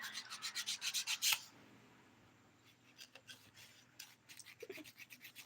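Coarse 100-grit nail file smoothing a fingernail sidewall near the cuticle, a quick run of close rasping strokes, then a quiet pause and another softer series of short scrapes.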